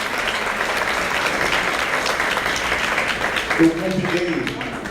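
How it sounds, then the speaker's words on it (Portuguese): A congregation at a church service applauds in a steady, dense wash of clapping that fills the whole stretch, with a voice rising briefly over it near the end. "Aplauda ao Senhor por essa oração poderosa que você fez"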